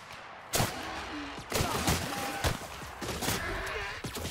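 Cannons firing in The Outer Worlds, several heavy booming blasts spaced about a second apart, loud and close amid ongoing game ambience and scattered impacts.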